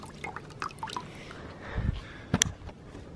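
Water drips and trickles off a waterproof sock just pulled from a container of water, a few soft splashes and a brief louder run of drops near the end, close and fairly quiet.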